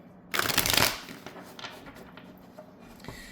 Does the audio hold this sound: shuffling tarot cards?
yes